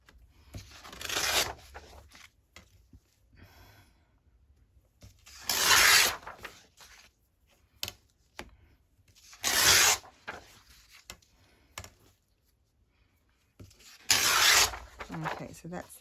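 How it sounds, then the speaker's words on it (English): Journal paper pages being torn against a tear ruler, four separate rasping rips about a second long each, with quiet handling noise and talk between them. "So we're going to tear down this one."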